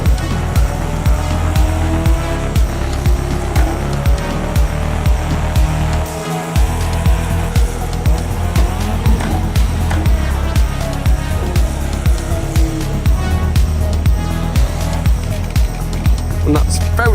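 A race car drives off-road in a VR racing video game, its engine roaring loud and constant with rough, uneven surges and a short dip partway through, under someone talking.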